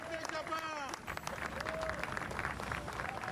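A welcoming crowd in Japan claps and cheers for the arrival of the all-new Boeing 787 Dreamliner, with dense applause under a narrator's voice and overlapping excited chatter.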